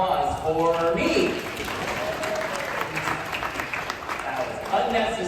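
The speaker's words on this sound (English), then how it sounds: "How about another round of applause for me?" A conference session audience applauds steadily for the speaker, a dense wash of many hands that lasts throughout. Voices can be heard over the clapping.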